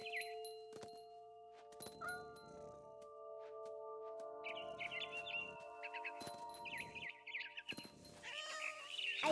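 In a video game scene, a barn swallow chirps in short high bursts while a cat meows and yowls nearby, both fairly close and clear, separated by quiet gaps over a faint steady tone.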